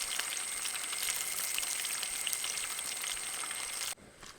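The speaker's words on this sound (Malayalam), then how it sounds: "നമുക്ക് മൂത്ത് വരുന്നുണ്ട് കേട്ടോ നമ്മുടെ ചിക്കൻ." Chicken pieces coated in crushed Lay's chips fry in a pan with a steady, dense crackling sizzle that holds close and loud for about four seconds, then drops abruptly to a quieter hiss.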